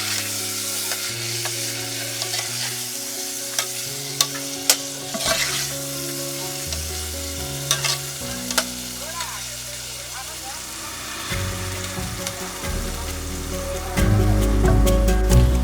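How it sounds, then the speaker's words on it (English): Egg sauce for yam cooks in a pan as it is stirred, a continuous sizzle with scraping and knocking strokes of the spoon, growing louder near the end, with talk heard in places. "I'm stirring it"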